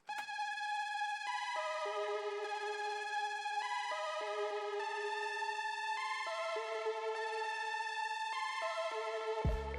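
A bright synth arpeggio loops steadily, repeating notes in a fast, even pattern that shifts pitch every couple of seconds, ending with a low thump.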